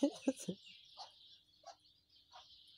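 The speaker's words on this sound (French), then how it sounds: "c'était un petit poussin qui s'était un peu éloigné de sa maman et ses frères et sœurs" A small chick that has strayed from its mother hen gives repeated thin, high peeps, some close and some softer, in an uneven series after a brief burst of voice at the start.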